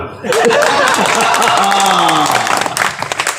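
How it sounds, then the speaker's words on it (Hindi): Crowd applause and cheering at a live stand-up comedy show in Narwar, a dense sustained burst that carries for a few seconds before thinning into scattered claps. "एक बार जरा व्यवस्थित ताली बजा देना"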